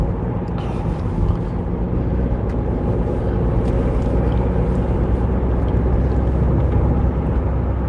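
A car engine picking up speed on a major city thoroughfare while the motor is still cold, a loud, continuous low rumble heard from inside the cabin without pauses.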